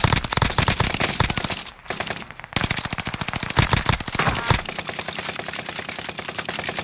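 Sustained rapid gunfire from Call of Duty Warzone on the Caldera map, in close bursts of sharp cracks with a brief lull midway before the shooting resumes, steady and loud.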